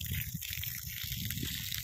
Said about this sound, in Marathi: आता पाणी मारणं चालू आहे